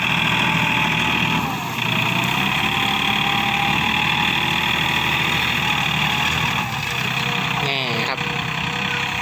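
A new Yanmar 39 hp tractor ploughs a field in first gear with a new disc plough, its engine droning steadily and loudly throughout with no break.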